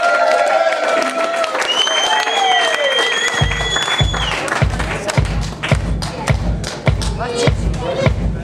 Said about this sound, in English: warm applause for Chelsea Green